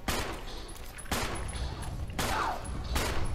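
Gunfire from a Resident Evil game, four heavy shots or short bursts spaced roughly a second apart, each with a loud attack and a long reverberant tail, filling the whole stretch without talk.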